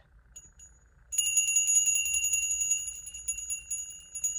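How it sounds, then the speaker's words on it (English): A small bell rings out after a second of quiet, a rapid, bright metallic trill that rings close and loud, then fades and sputters toward the end. "The bell decides when it wants to be loud"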